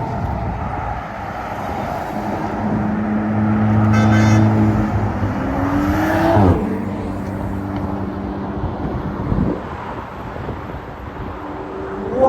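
Sports cars on a Normandy motorway, leaving a service area, pass by one after another: a loud, rising and falling engine sweep with Doppler pitch drop near the middle, then steady road roar and wind between passes.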